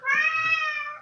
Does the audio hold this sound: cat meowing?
yes